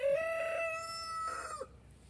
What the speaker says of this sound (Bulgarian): С този петел няма се разбереме.